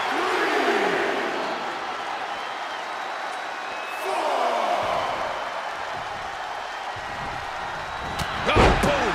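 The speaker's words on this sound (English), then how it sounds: "Support from the crowd." Arena crowd noise from a WWE 2K24 tag-team women's match, a steady roar of cheering that swells in the middle and surges near the end with a loud slam and impact thud, with commentary voices over it.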